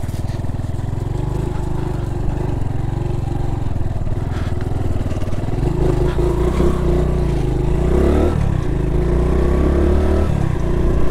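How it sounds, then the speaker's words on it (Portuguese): A motorcycle engine drones steadily close by, its pitch rising and falling as the bike rides and accelerates. "vou deixar a moto ali"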